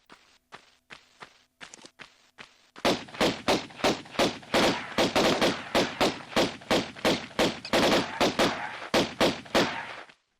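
Gunfire from a 1995 3D DOS game as bats are shot, with a few sparse shots followed by a rapid, steady string of loud, evenly spaced blasts.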